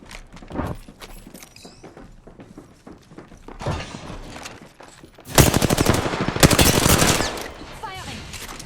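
Video game gunfire bursts out loud and dense midway, rapid automatic shots over a steady rumble of game sound, after a quieter stretch of scattered effects and faint voice lines.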